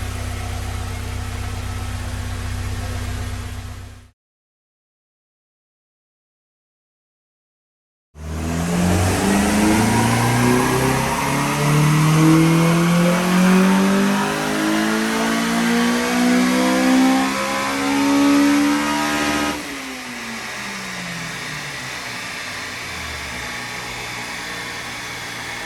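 Tuned Honda Civic EP3 Type R with a K20 engine on a dyno, idling loudly, then after a short silence revving hard through a long rising pull with climbing harmonics before dropping back to a steady drone; no talking.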